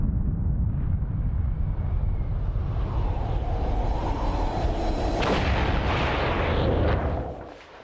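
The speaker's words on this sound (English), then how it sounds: "On the 12th of August, the Soviets also explode an H-bomb." Soviet H-bomb explosion: a loud, sustained, deep roaring rumble that swells and brightens into a crackling blast near the end before quickly fading away.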